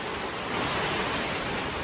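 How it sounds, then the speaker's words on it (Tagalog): Heavy rain pours down in a dense, steady hiss with no letup, close and loud throughout. "ang lakas ng ulan"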